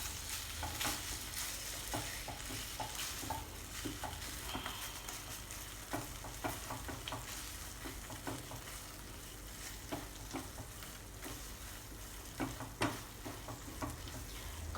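Mawa roasts in a pan over a low flame for Diwali gujiya, a soft steady sizzle broken by frequent light scraping and stirring taps, fairly quiet and with no talking.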